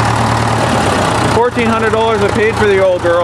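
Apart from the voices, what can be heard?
old tractor engine idling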